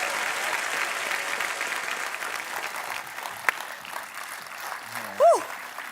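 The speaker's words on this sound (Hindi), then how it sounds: "जोरदार तालियां अनुष्का के लिए और हमारे साथी कलाकारों के थैंक लिए" A studio audience on a comedy talk show applauds for actress Anushka, a dense, steady wash of clapping that gradually thins, ending with a brief tonal swoop.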